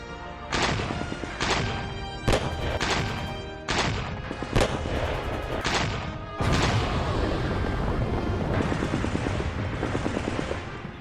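Indian Army artillery cannons fire at Pakistani positions, a series of loud booming blasts with long rumbling decays, coming in separated bursts before a denser stretch of continuous firing.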